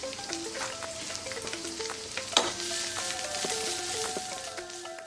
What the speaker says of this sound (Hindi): फटाफट से आप यहाँ पर अदरक, लहसुन, हरी मिर्चे, प्याज, शिमला मिर्च सब एक साथ यहाँ पर डाल देना।